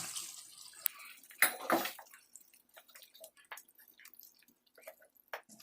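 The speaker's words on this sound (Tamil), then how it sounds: "இப்போ இதில் ஒரு 1 கப் அளவு தண்ணி ஆட் பண்ணிக்கோங்க." Water poured into chicken gravy simmering in a pan, a brief splashing pour followed by soft bubbling and drips, fairly faint and close, with no talking.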